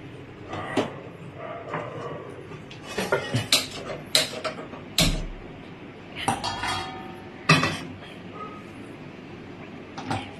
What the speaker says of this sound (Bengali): কড়াই তুলে দিলাম